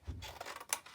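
Scissors snip paper for a Christmas picnic basket craft, giving a couple of quick, faint close cuts with a sharp click near the end.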